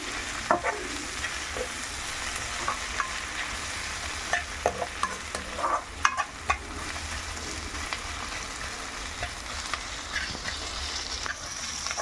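Onions sizzle and fry in a pan as the base for a drumstick and egg gravy, a steady crackling hiss with occasional stirring scrapes and small pops throughout, fairly close and continuous.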